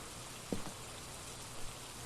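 Steady soft rain falling in the horror video game Phasmophobia, a quiet, even hiss with a couple of faint brief knocks, no talking.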